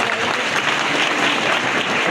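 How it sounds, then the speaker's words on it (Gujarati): Audience applause at a mass wedding ceremony, a dense, steady burst of many hands clapping together for about two seconds, loud and continuous with no voices standing out. "એક વાર તાળીથી વધાવો"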